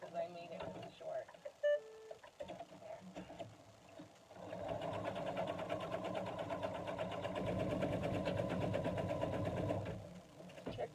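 A home sewing machine runs over the short center seam of a fabric ball snowman, a steady close whirr building after a few quiet seconds, with a person talking in the background.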